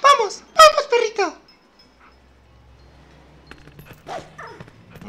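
A dog in The Legend of Zelda: Twilight Princess gives a quick run of short yips and barks up front, then fainter whimpering yelps later, with a voice talking over part of it.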